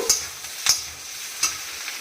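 Potatoes being stirred in a pan for pepper potato fry, three sharp scraping strokes over a faint sizzle, close and fairly quiet.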